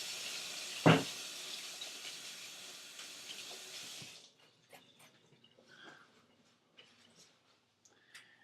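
Tap water running into a kitchen sink while hands are washed, a steady hiss for about four seconds that then stops, leaving faint drips and small clinks.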